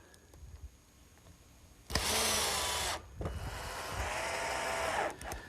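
A power drill drives rust-resistant screws into a greenhouse hinge on soft redwood, two loud close bursts of whirring, the second longer, after a quiet stretch of handling noise.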